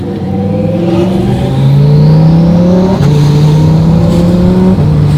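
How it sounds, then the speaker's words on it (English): A twin-turbo Audi R8 RWS engine roars loudly close by, its pitch climbing steadily, then dropping sharply on a downshift with a quick throttle blip before rising again. "A downshift, nice blip, wasn't too off."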